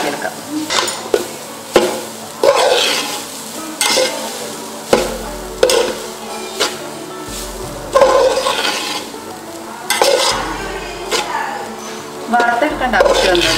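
Grated coconut from four large coconuts is heated in a pan to dry off its moisture without roasting, stirred with repeated scraping strokes roughly every second over a low sizzle, close by, with voices at times.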